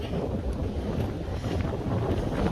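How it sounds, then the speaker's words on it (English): Cold wind roars steadily across a mountain trail, buffeting the microphone with a loud, continuous low rush and no pauses. "So it's chilly and that wind is kicking"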